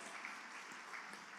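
Church congregation claps together in praise, a faint, even patter of many hands held steady and distant for a short stretch.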